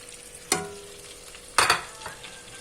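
Chicken sizzles quietly in butter in a pot, with two sharp bursts of louder frying and clatter as pieces are added and stirred.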